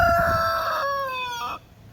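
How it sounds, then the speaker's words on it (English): An aggressive backyard rooster crows close by, a loud drawn-out call of about a second and a half, with brief low clucking at the start and quiet after. "replace Cluck here with one of them, since he's such an aggressive rooster"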